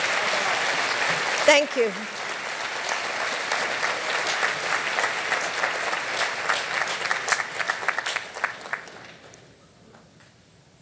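Warm audience applause fills the room at an awards breakfast after a speech, sustained clapping that thins and fades toward the end, with a voice briefly speaking at the start.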